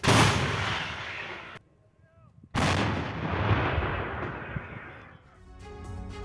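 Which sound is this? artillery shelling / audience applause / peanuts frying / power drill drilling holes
artillery shelling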